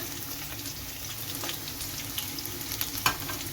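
Ginger, garlic, green chilli and onion fry in hot oil after mustard seeds have popped, a continuous close sizzle with a few sharp crackles near the end.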